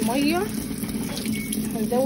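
Water runs steadily into a washing machine drum being filled during a wash, a continuous rushing flow with a hum beneath it; a person speaks briefly at the start and end.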